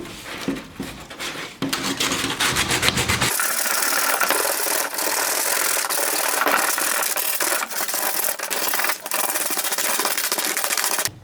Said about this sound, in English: So you want to start at the back, sand that down, and also the front.